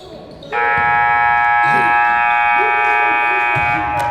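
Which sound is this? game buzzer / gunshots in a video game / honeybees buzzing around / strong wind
game buzzer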